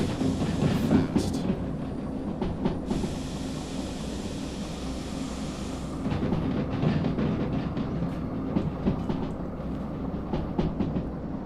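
A DE2 locomotive in the Derail Valley train game rumbles along with its train brakes applied, a steady rolling roar with a long hissing brake release partway through and scattered clicks and clanks, no talking.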